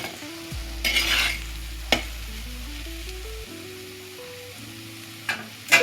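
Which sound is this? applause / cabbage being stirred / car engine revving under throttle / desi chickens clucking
cabbage being stirred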